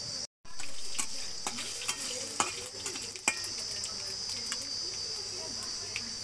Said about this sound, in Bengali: দিয়ে দেবো 2টো তেজপাতা, গরম হয়ে গেলে দিয়ে দেবো গোটা জিরে,